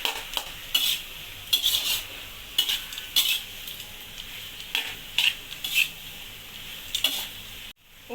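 A spoon scrapes and stirs a vegetarian tapioca stir-fry in a pan: a run of close, irregular scraping strokes over a faint sizzle, stopping abruptly near the end.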